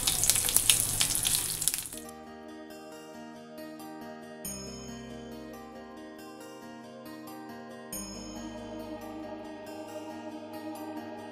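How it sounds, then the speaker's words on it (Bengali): Chopped ginger, bay leaf, whole cumin and dried red chilli hit hot oil for a Bengali tempering, giving a loud, bright sizzle for about two seconds before music takes over. "ফোড়নে দেবো ওই যে আদা কুচি আর তেজপাতা, গোটা জিরা আর শুকনো লঙ্কা, এই দেবো ফোড়নে।"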